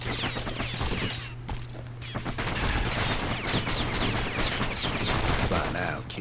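Rapid gunfire from the Kid's twin guns in Bastion, quick repeated shots over a game music bed, with a narrator's voice talking over the fire.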